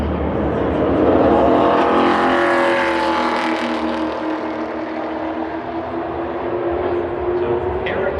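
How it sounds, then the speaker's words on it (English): Eric Almirola's NASCAR Xfinity race car rolls around Phoenix Raceway below racing speed, its engine droning and rising then settling in pitch, with a commentator talking over it. "This car is not coming up to speed."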